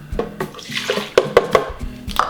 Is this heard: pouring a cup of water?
yes